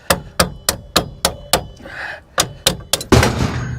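Sharp metallic hammer strikes on a suspension knuckle bolt of a supercharged Chevy Cobalt SS, about a dozen loud close blows in a steady rhythm with a brief pause, the last hit ringing heavier.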